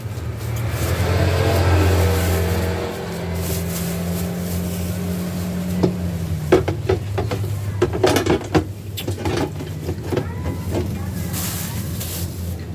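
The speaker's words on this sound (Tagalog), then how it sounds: "napakaingay ng ang ating kalsada ngayong araw" Noisy road traffic on a busy Sunday street: a loud low engine rumble swells and fades as vehicles pass close by, followed by scattered knocks and clatter nearby over continuous street noise.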